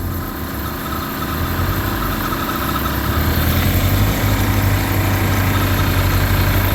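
An HP 20 grout pump engine runs at a steady idle, a loud, close, continuous mechanical drone with throbbing low rumble and vibration that holds constant throughout.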